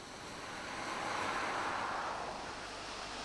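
A waterfall roars as broad, steady rushing water in cold weather, met at a roadside stop during a bike ride; the wash stays continuous and moderately loud with no voices over it.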